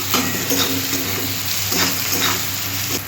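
Sliced onions with salt and sugar sizzling steadily in hot oil in a wok, with rhythmic scraping strokes of a spatula stirring them, loud and close, no voices.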